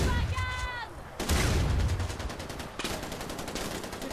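Sharp, booming shotgun blasts in the video game Far Cry 4, a few loud reports spaced over several seconds, each trailing into a rough decay.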